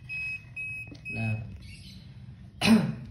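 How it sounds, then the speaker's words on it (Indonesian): A kWh meter's overload warning buzzer emits thin, high electronic tones in short intermittent bursts while someone speaks close by, with a brief louder vocal noise near the end. "buzzer menyala selama 3 detik karena dia ada identifikasi bahwasannya watt hampir mendekati set point"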